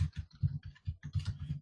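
Rapid keystrokes on a computer keyboard, an uneven run of close, distinct clicks and taps with short pauses, heard on their own without any voices.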